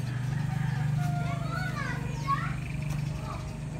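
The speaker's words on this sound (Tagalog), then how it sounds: "Yung mga bata guys naglalaro." Children play and call out at a distance outdoors, their faint high voices rising and falling over a steady low hum, with a few bird-like chirps mixed in.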